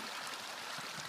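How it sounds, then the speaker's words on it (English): A small mountain stream along a trail near Flat Top and Grand Lake flows with a continuous soft, even rush of water, fairly quiet and close. "All right, I'm at this little stream."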